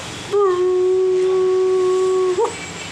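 A man imitates a dog with one sustained, steady howl of about two seconds, ending in a short upward yelp, loud and close.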